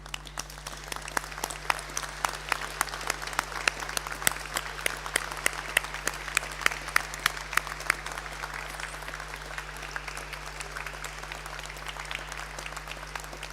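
Graduation audience at Boston College standing and applauding: a big room of clapping hands with sharp individual claps popping out of a steady roar, holding strong then easing slightly toward the end, with a low steady hum beneath.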